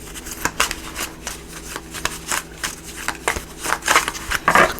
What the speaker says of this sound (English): So let me just shuffle these up a little bit here.